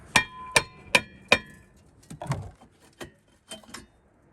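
Hammer blows knock a rear brake rotor off the hub of a 2016-2019 Kia Sorento AWD: four sharp, ringing metallic strikes at a steady pace, then softer, duller knocks and clunks as the rotor loosens, close and loud with no talking.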